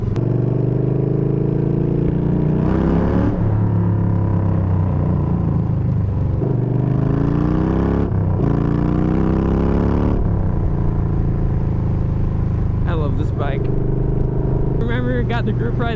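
A Yamaha Bolt motorcycle with a Bassani exhaust and the baffles removed rumbles and revs loudly, its deep engine note rising and falling with throttle blips, while people talk excitedly over it.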